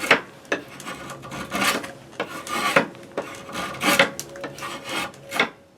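A rasp works scrap wood down to an even smoothness for a butter spreader, giving repeated harsh scraping strokes at an irregular rhythm, close and fairly loud with no talk.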